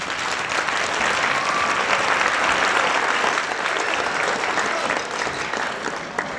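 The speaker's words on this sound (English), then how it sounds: "give them a round of applause right now" Loud, sustained applause from a school winter concert audience for seventh and eighth grade band students, a dense wash of clapping that swells and holds before easing slightly toward the end.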